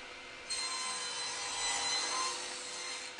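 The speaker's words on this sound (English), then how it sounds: "And a quick trim of that tenon on the bandsaw so I can try it out" Bandsaw trimming a wooden test tenon in a workshop, a steady bright cutting rasp that starts after a brief pause and holds evenly close by, with no talk.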